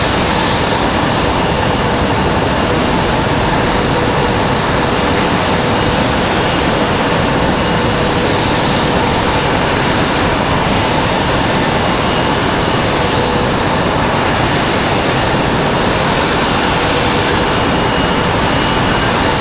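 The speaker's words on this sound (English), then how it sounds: "the next arrival is going to be that JetBlue 404. They are on final now" A JetBlue jet airliner on final approach into Raleigh-Durham, fighting a gusty wind, gives a steady, loud broadband roar that holds evenly throughout with no talk.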